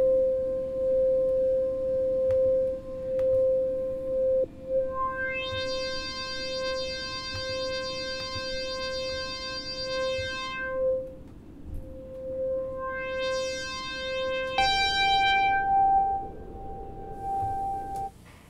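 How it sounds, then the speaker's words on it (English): Steady synthesizer oscillator tones hold a single pitch, then bright buzzy harmonics swell in and fade as oscillators layer into a richer synthesized chord that shifts pitch near the end. "Adding oscillators 1,"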